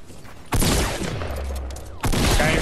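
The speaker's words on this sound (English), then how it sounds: "Guy right next to you shooting me" Gunfire in the battle royale video game Fortnite: two loud, close bursts of rapid shots, one starting early and rumbling on for over a second, then a second sharp burst near the end, with no talking.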